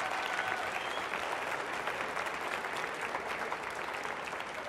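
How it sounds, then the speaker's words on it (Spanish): An audience applauds Anabel Ferreira at a comedy roast, a dense, steady wash of clapping from a crowd that holds evenly throughout without any clear voice on top. "Un aplauso para Anabel Ferreira, por favor."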